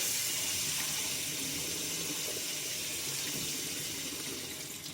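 Cold tap water runs steadily from a faucet to rinse snapper fillets, a continuous close hiss of flowing water into a sink with no talking over it.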